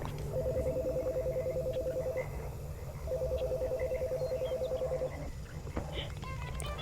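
In-game phone call in Chicory: A Colorful Tale, where two long warbling electronic ring tones sound in succession over soft background music before stopping.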